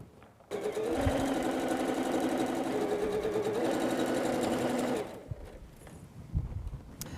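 A sewing machine stitches quilt block units together, running at a fast, even hum for about four and a half seconds before stopping, followed by faint handling knocks.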